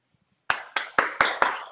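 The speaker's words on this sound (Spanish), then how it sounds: "Hasta aplaudiendo estamos por acá." Five separate handclaps in a steady rhythm ring out close by in a quiet room during an online pie-baking class, each sharp and followed by a short decay.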